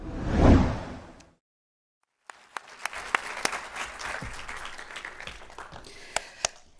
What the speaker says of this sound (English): can we just give another round of applause to Generation Conscious and Redish?